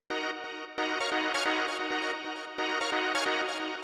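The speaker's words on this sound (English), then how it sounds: "You can hear this is what's really giving it that kind of like crunchy," A rave techno synth pushed through a Saturator plays in dense, bright bursts with a crunchy, gritty distorted texture and quick rhythmic chops, with no voices.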